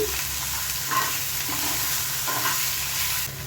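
Ginger-garlic paste and spices are stirred in a frying pan for a fish curry, a steady sizzle underneath with repeated scraping strokes of the spoon at a moderate, close level, no talking.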